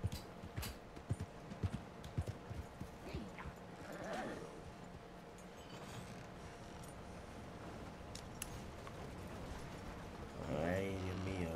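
Horse hooves clip-clop at a slow pace in Red Dead Redemption 2, a steady run of close, light strikes blended with game ambience and scattered creaks, a brief rising tone near the end.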